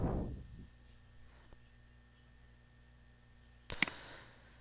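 A single sharp computer mouse click near the end, with a small quieter tap earlier, set against a faint, steady background hum.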